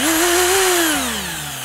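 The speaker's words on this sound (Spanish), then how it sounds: "Para eso yo hago uso de el ya confiable taladro." Cordless power drill turning the tension rods of a drum tom fitted with Evans G1 heads, a close, loud whirring motor whose pitch rises slightly, then slows and winds down.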